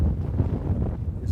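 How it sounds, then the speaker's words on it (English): Steady, heavy wind buffeting close to the microphone on San Francisco Bay, a continuous low rumbling roar with no pauses. "It's of course very windy out here."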